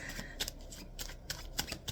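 Tarot cards being shuffled by hand, close and steady, with a continuous papery riffle broken by repeated sharp slaps and flicks roughly every quarter second, no talking.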